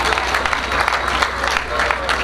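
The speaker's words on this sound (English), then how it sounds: "can we clap for him?" A crowd at a 2016 teen annual event in Nigeria claps for a student: dense, continuous clapping with crowd noise, with a voice speaking over it.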